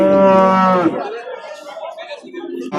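A pregnant cow at a livestock market lets out one loud, close, drawn-out moo, followed by busy crowd murmur and people talking in the background.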